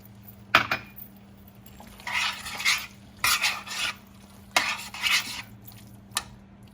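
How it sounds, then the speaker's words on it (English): Butter and grated Parmigiano Reggiano being stirred into orecchiette pasta in a pan, with repeated scraping and clinking strokes of a utensil against the pan in short bursts over a steady background hum. "now I'm going to add the butter, 2 tablespoons of butter. The grated Parmesan Reggiano cheese."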